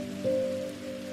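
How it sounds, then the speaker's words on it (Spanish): Steady rain falling in a calm relaxation setting, a soft continuous patter with a faint low hum beneath, heard alone with no talking. "podemos situarnos un poco debajo de esa lluvia"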